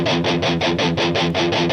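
Tight, chugging palm-muted electric guitar riff played with down-picking, a steady run of even rhythmic pulses about every fifth of a second, loud and dense with pick scratchiness, no voices.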